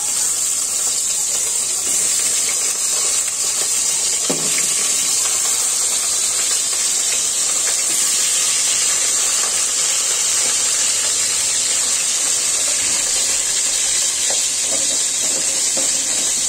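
Rui fish pieces hit hot oil seasoned with panch phoron, giving a steady, loud, bright sizzle and hiss that holds for the whole stretch, with a few small pops and clatters close by.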